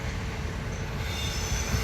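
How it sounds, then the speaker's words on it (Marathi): A Konkan Railway train arriving at Apta railway station rolls close by with loud, steady rumbling and clattering wheels, and a high metallic squeal rises above the noise. "ही आपली ट्रेन येते"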